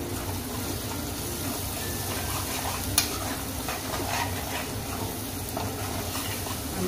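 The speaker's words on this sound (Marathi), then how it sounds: "आता हे बघा कांदा मी असं थोडं ट्रान्सपरंट होईपर्यंत करेन." Salted chopped onion frying in a pan until soft and translucent, a steady close sizzle with occasional stirring scrapes and one sharp click.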